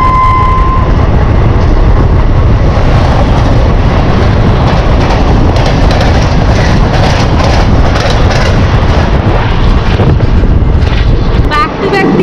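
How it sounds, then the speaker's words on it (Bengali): The Ranchi Shatabdi Express roars past alongside a moving Indian express train, heard from a 3rd AC coach. It makes a loud, sustained rumble with rhythmic clatter and heavy wind rush, and a brief horn-like tone sounds at the start. "কিছুক্ষণের মধ্যে 120-19 রাঁচি শতাব্দী এক্সপ্রেসের সাথে আমাদের দেখা হতে চলেছে।"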